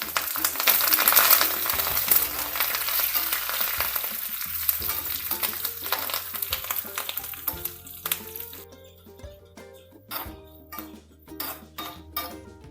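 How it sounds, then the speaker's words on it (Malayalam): Onion, dried chilli, curry leaves and mustard seeds fry in hot oil for a Kerala mango pachadi, a loud dense sizzle that thins out over time into scattered pops, with light metallic clinks of a spoon, no talking. "ഉള്ളിയും മുളകും കറിവേപ്പിലയും കടുകൊക്കെ മൂത്ത് വന്നിട്ടുണ്ട്."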